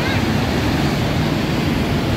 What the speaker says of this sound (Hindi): पानी की स्पीड देखें आप इस वक्त कितनी ज़बरदस्त चल रही है